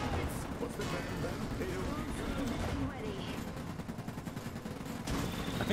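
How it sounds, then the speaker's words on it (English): Battlefield fire from the Iron Harvest strategy game: dense, continuous volleys of gunfire and artillery blasts rumble and crackle together for the whole stretch without letting up. "Get that fucking artillery out of the goddamn field here."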